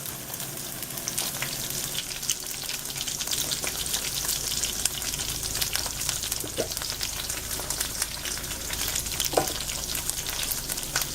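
Shrimp frying in a frying pan, a steady close sizzle with bright crackling spits and a few sharp pops, no talking.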